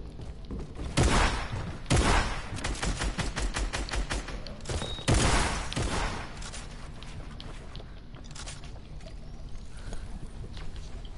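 Shotgun spammed in a video game, fired in repeated heavy blasts with several loud bursts near the start and midway, then quieter continuing shots with light background noise.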